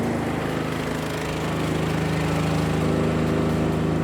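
A petrol electric generator powering an 8x8 amplifier set runs steadily nearby, a loud, continuous mid-pitched engine drone with a firm, even hum and no voices over it.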